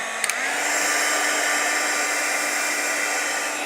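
A dryer blowing over layered shimmer paste on a craft surface: two quick clicks as it switches on, then a steady, moderately loud whirring hiss that holds evenly.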